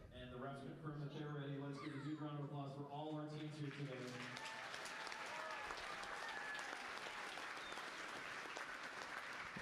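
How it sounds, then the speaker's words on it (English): Crowd applause at a Michigan middle school VEX robotics state championship swells in steadily and continues as a dense, even wash after a voice speaks over a PA. "let's give a huge round of applause for all our teams here today"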